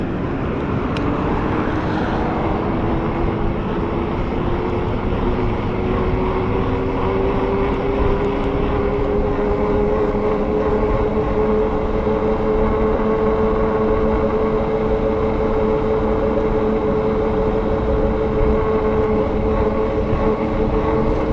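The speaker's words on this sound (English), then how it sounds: "I'm going to test the tire on awful roads" A Juiced electric bike rides over rough, awful roads, giving a continuous loud rumble of tires and wind with a steady whining tone that slowly rises in pitch.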